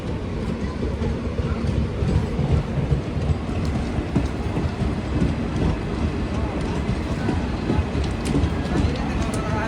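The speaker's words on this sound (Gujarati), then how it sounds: "સામેની સાઈડ તમને જે ગાડી દેખાઈ રહી છે તે કહેવાય છે કે કોયમ્બતુરથી ચાલીને રાજકોટ સુધી જતી કોયમ્બતુર રાજકોટ સુપરફાસ્ટ એક્સપ્રેસ ગાડી છે" The Coimbatore–Rajkot Superfast Express rolls past on a nearby track, a loud continuous low rumble with rattling wheels and wagon noise sustained throughout the clip.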